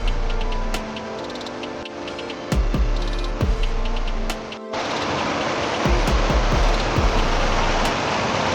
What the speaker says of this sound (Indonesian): Air terjun yang mengalir deras, air yang jernih kehijauan, bunyi alam menggantikan segala kesibukan.